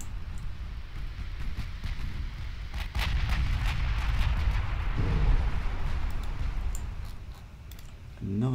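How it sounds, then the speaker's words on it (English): A torpedo hit in the naval battle game Ultimate Admiral Dreadnoughts: a deep rumbling blast booms in mid-clip, then rolls on and fades, set among crackling distant gunfire and low battle rumble. "Another torpedo hit."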